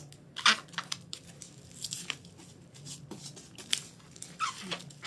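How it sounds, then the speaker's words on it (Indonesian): Packing tape pulled and wrapped tightly around a box, heard as a series of sharp ripping, squeaking strips with crinkling in between, close up and uneven in rhythm, with no talking. "Nah, lakban muter biar kencang."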